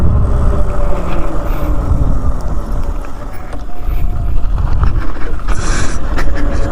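A Happyrun G300 PRO 72-volt electric dirt bike is ridden off-road, heard as a loud, continuous rush of wind buffeting and tire rumble with a faint motor whine throughout.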